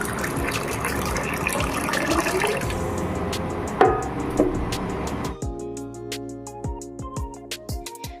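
Water gushes from a tap into a pot to be heated on the stove, a loud, steady pouring that stops abruptly partway through, followed by a few light drips and clinks.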